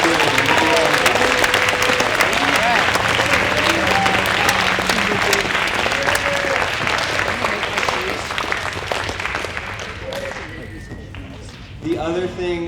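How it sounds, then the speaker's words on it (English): Sustained applause from a school audience at a middle school prize day ceremony, a dense clapping wash that fades gradually before a brief fresh burst at the end. "So please make sure we give a round of applause to Ms. Darnton, Mr. Shoemaker,"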